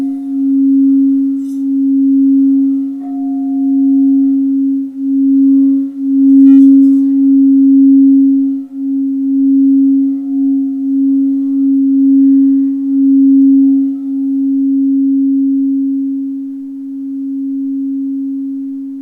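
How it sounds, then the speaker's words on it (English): A crystal singing bowl tuned to 432 Hz rings with a pure, sustained tone that swells and pulses gently, a faint higher overtone floating above, with no voices. "all of the bowls speak in their own unique ways because they have their own unique tone and pitch"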